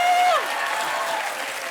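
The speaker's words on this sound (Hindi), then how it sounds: "जुगल सर के लिए एक बार ताली बजाएं।" Studio audience applauding on a Hindi comedy talk show, a dense, steady wash of clapping that fills the whole stretch at an even, fairly loud level.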